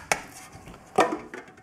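Stainless steel pins, about 2.5 pounds, poured into a homemade brass tumbler drum, landing in a few distinct metallic rattling bursts close by, with a pause between pours.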